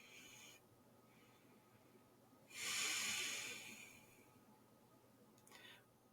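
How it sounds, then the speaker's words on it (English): A single deep breath, drawn in and then let out in a long, slow, airy exhale for calming, close and fairly soft over a quiet background, with a faint brief breath near the end. "calming ourselves with a deep inhale, but with a longer exhale"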